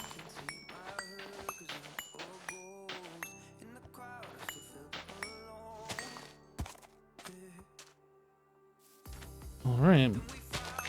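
Horse and other farm-animal noises in the Minecraft GT New Horizons modpack, short snorts and clunks scattered among game sounds, with a louder whinny-like call rising near the end while a person talks over it.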